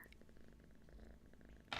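A kitten purrs softly and steadily in a quiet indoor room, a faint rhythmic rumble with a brief louder rustle at the very end.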